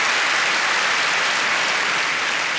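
Applause from a comedy show audience in a large venue, steady and continuous throughout, dense clapping filling the room with no voices on top.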